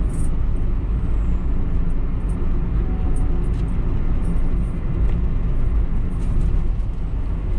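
Interior road noise inside a Daihatsu Sigra 1.0 manual driving on asphalt: a steady low rumble of tyres and engine, fairly quiet and even throughout, with no voices.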